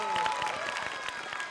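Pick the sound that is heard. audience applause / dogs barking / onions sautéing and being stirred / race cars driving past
audience applause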